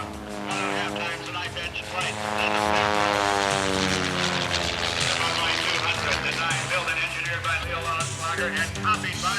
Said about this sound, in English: Leo designed and built his Bud Light Laser 200 specifically for aerobatic competition